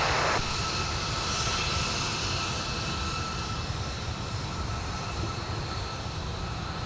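An Airbus A320 jet at Minneapolis–St. Paul airport rumbles nearby with a steady, broad engine roar, holding level throughout without voices.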